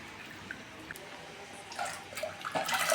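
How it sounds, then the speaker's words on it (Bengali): Chana dal and large pea lentils washed together in water for a chicken-fat dal, with soft trickles and drips early on, then louder splashing and sloshing toward the end, close and without talk. "সেখানে জল দিয়ে ভালো করে ধুয়ে নিতে হবে।"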